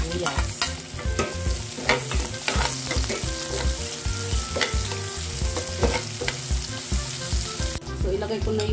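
Onions dropped into a hot pan for ginisang monggo sizzle loudly up close, with busy, irregular scraping and clattering of a spoon against the pan throughout.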